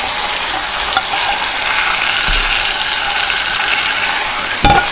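Food sautéing in a pan with chopped tomatoes during a home cooking challenge, a loud continuous close sizzle broken by occasional scrapes and knocks of stirring, with no voices.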